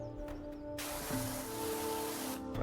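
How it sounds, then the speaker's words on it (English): Pressure washer spray from PowerWash Simulator 2, a steady close hiss that starts partway through and runs continuously to the end over a low background hum of game audio. "I have to spray a little bit over the bits that should be clean already, just to make sure."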